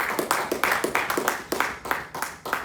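A church congregation claps during a Spanish-language sermon, the claps falling into an even, rhythmic beat several times a second, moderately soft and steady throughout.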